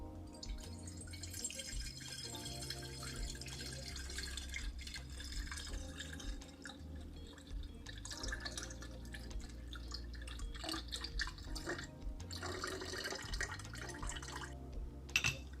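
Juice made from beetroot, apple, carrot and aloe vera is poured into a container, giving a close, continuous liquid trickle with small splashes and drips, steady at moderate loudness, with no one talking.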